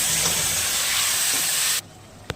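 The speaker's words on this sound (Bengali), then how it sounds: "এবার মশলাটা দিয়ে দেবো, আদা, কাঁচা লঙ্কা, জিরে।" Ginger, green chilli and cumin hit hot oil for a tengra fish curry with potato and green banana, giving a loud, steady sizzle that cuts off abruptly, followed by a single small clink.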